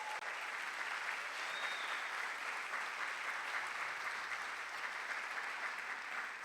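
A church congregation applauds to welcome new members, a steady wash of many hands clapping at a moderate distance, even and continuous for several seconds.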